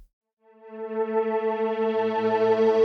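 Synth pad in Bitwig run through a pitch shifter and then chorus, a sustained harmonic chord swelling in after silence and holding steady, with a low tone joining partway through.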